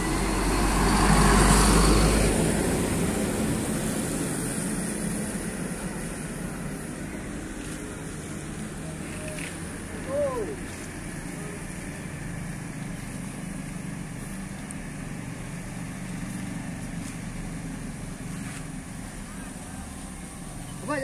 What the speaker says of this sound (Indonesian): Akan diberangkatkan ini unit-unit bus metropolitan.